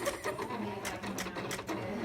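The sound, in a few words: vinyl cutting machine cutting Siser Stripflock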